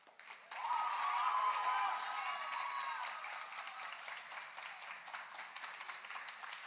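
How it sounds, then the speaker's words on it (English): A high school senior awards night audience claps and yells loudly for honoured seniors, a dense, steady wash of applause and cheering that swells quickly and holds for several seconds. "As loud as you can, clapping and yelling,"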